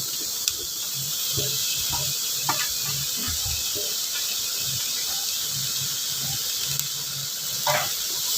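Chopped onions sautéing in a pan while cooking a vegetarian dish, a steady bright sizzle that runs throughout with faint scattered clicks and stirring taps beneath it.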